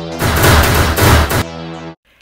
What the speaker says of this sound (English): I guess I have no choice but to use the spider gun.